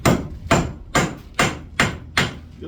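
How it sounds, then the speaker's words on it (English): A hammer taps a nail head six times in a steady rhythm, each strike a sharp, close, ringing knock followed by a short decay, with no voices. "Take my hammer and just tap him on the head."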